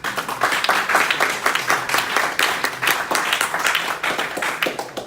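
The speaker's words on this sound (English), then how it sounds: "Let's give him a round of applause." A round of applause for a guest, Incidr co-founder Henry Hunter, at a 1MC Fairfax gathering: a close, lively room of clapping hands that stays loud and steady for several seconds.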